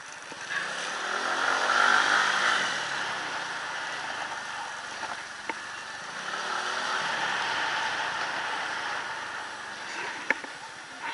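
A Suzuki Address 110 scooter, fitted with Dr. Pulley rollers and sliders, accelerates uphill with a steady droning engine note that swells and holds, heard from the rider's position with wind noise and no talk.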